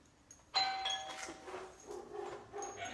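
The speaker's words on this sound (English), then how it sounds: "when the doorbell rings" A home doorbell sounds a two-tone ding-dong chime at moderate distance, followed by faint indoor room noise.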